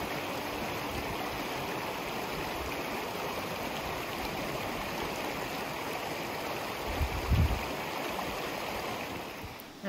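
North fork of the Laramie River in the Colorado woods, flowing as a steady broadband rush of water, close and constant, with a brief low thump near the end.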